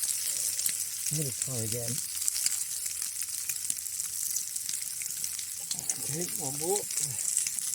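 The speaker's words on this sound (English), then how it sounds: "we're still going to get a fried egg anyway" An egg frying on a hot stone outdoors, a steady loud crackling sizzle that runs the whole time, with someone briefly talking over it.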